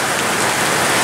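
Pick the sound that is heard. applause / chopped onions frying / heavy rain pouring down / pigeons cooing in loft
heavy rain pouring down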